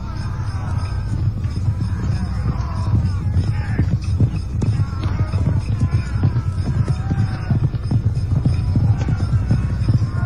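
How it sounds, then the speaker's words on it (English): Assyrian horses and chariots charge into battle: a continuous low rumble of hooves and wheels, with steady muffled pounding that stays dense and full throughout. "The signal for attack is sounded, and the chariots charge."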